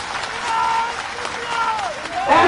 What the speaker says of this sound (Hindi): ऐसी तालियां बजनी चाहिए पिपराई।